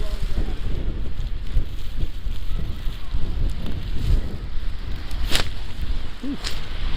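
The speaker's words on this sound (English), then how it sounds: "It's a little more windy on this street." Wind gusting along a snowy Boston street during a Christmas-weekend snowstorm, a steady broadband rush with low buffeting on the microphone throughout, with faint city sounds mixed in.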